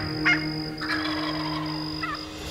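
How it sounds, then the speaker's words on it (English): A wild turkey gobbles from its roost at dawn in Florida timber, a few rough rattling gobbles over a steady background of other birds and insects. "We were hearing gobbles on the roost."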